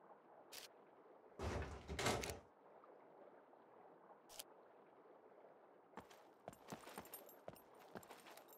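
A door swings open in the survival video game SCUM, a short burst of creaking and knocking rising clearly over quiet ambience, followed later by scattered clicks and footsteps.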